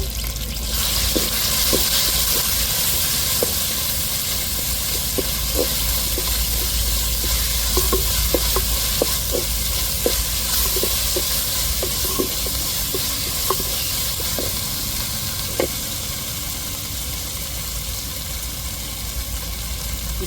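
Ginger and garlic sautéing in a pan for a conch-meat curry, a steady close sizzle with repeated light scrapes and taps of a spoon stirring throughout.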